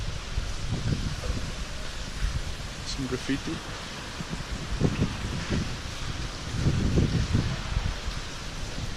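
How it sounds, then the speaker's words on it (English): Strong gale blowing across a GoPro microphone inside a roofless abandoned bakery factory in heavy rain, a continuous loud low rumble with gusty surges throughout, under a voice speaking briefly. "It's going to be windy, so apologies. It's blowing a gale in here. It's on the GoPros, nothing I can do about it."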